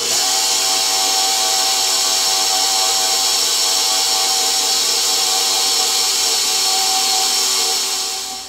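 An electric mixer runs steadily on low through chocolate cake batter, a loud continuous whirring hum that holds for the whole stretch and tapers slightly at the end, with no voices.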